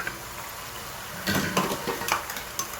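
Tomato puree and garlic paste drop into onions frying until pink in a pan, giving a soft steady sizzle that swells into louder crackling and stirring scrapes partway through.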